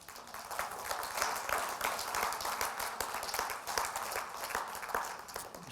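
An audience at a live talk applauds, with dense, steady clapping from many hands at moderate distance, sustained throughout without pause.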